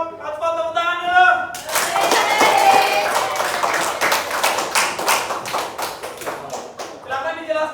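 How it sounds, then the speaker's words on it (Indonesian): A classroom group claps hands together after a brief spoken prompt, a burst of many sharp close claps lasting several seconds and thinning out as a voice resumes. "Kasih tepuk tangan dulu."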